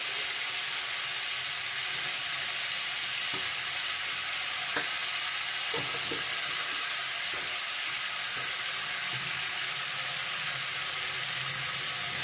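River fish curry with potato and vegetable stalks fries in a pan, giving a loud continuous sizzling hiss throughout, with a few faint clinks from stirring and no speech.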